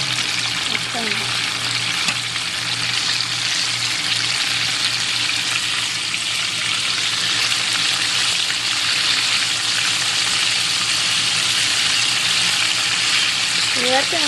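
Chicken fries in bubbling oil with a continuous, even sizzle and crackle that holds steady throughout, under a low hum, with brief voice sounds near the start and end.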